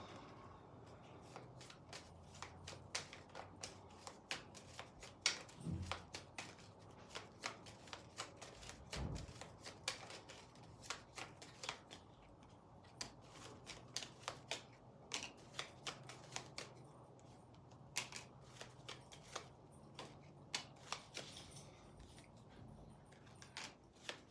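Oracle cards being shuffled by hand at close range: quiet, repeated crisp riffles and slaps in irregular bursts, with soft rustling between them and no talking.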